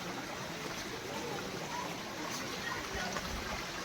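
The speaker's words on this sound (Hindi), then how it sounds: "ये सारे पानी दूर से कहीं से छोड़ा जाता है" Steady flowing water at the Rock Garden in Chandigarh, a continuous broadband rush that holds even and unbroken from start to end, with no voices rising above it.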